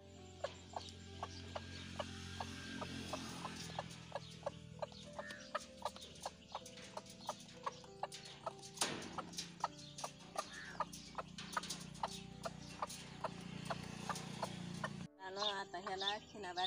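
Free-range village hens cluck in short, repeated bursts while pecking at scattered wheat, close by, with a voice talking over them and a few light knocks and rustles.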